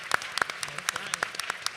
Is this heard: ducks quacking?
no